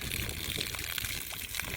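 Water runs steadily out of a gravity-feed water line, a close, continuous splashing gush for under two seconds.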